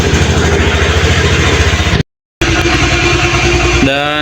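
Honda motorcycle with idling stop running near the microphone, a steady engine drone broken by a short cut of silence, then resuming with a rising whine near the end.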